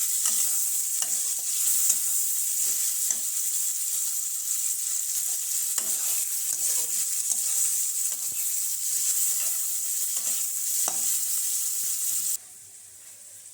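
Chickpeas dry-roasting in a pan for a Bengali breakfast of roasted chickpeas and puffed rice give a steady, hissing sizzle. Repeated scraping stir strokes run throughout, and the sound drops away abruptly at the end.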